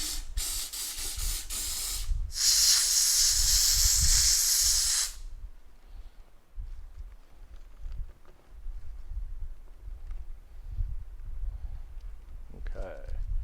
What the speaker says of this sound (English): I'm going to continue to jet steam into the groove